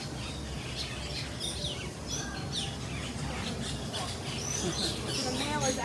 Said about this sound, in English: The world's largest pigeon is right above your head here.